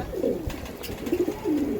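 Racing pigeons coo nearby in soft, throaty rolling calls, three short bursts over a faint shuffling background, with no speech.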